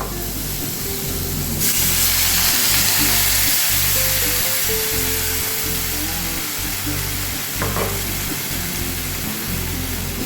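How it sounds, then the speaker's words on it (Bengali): Water poured into a hot pan of hilsa fish head fried red with turmeric for a pumpkin curry sets off a loud, steady sizzle and hiss that surges early and keeps bubbling. "এবার এটা আমি জল ঢেলে দিচ্ছি।"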